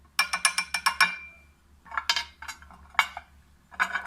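A metal spoon taps and scrapes against a dish while scooping ground cumin, giving several quick clinks in a burst, then scattered scrapes and knocks at close range.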